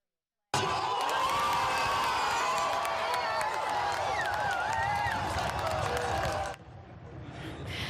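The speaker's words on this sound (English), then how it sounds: "soccer fans gathered here in Windsor to cheer on their nation" Hundreds of soccer fans gathered outside Windsor City Hall cheering on Canada's national team, a loud outdoor roar of voices with whistles and clapping that starts abruptly and drops off sharply near the end.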